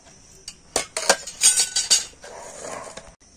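A metal kadai wok is handled in a kitchen, giving a string of close clanks and scrapes with short bright metallic knocks at uneven intervals.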